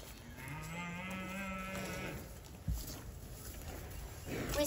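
Cattle low in a drawn-out moo from a field where a herd and donkeys are nearby, a single long call with a harmonic tone over steady outdoor rumble, followed by a brief thump and rustling.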